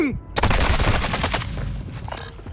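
Rapid automatic gunfire from the Warzone video game rattles in a loud, close, continuous burst for about two seconds before fading out.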